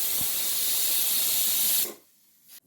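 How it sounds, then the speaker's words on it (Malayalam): A pressure cooker holding rice and lentils lets out a loud, close, steady hiss of escaping steam that cuts off abruptly partway through, leaving near silence. "ദാണ്ട കുക്കർ കൂക്കി പേടിപ്പിച്ചു"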